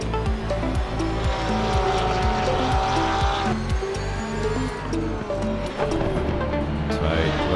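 A race car in Assetto Corsa Competizione brakes hard on a slippery Nürburgring: the loud engine drops through downshifts in rapid stepped pulses, then revs climb again, with a faint tire squeal under a voice.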